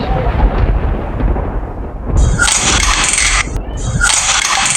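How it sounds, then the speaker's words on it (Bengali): Heavy rain pours steadily with low thunder rumbling through, broken by bright hissing bursts in the second half; loud and close, with no voices. "বাহিরে প্রচুর বৃষ্টি হচ্ছে"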